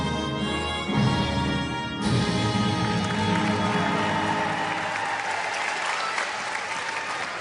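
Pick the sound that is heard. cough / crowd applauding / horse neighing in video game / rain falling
crowd applauding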